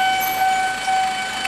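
A train arriving at a station fills the space with a steady rumble and a sustained high tonal whine, like brakes or a distant horn, as it pulls in nearby.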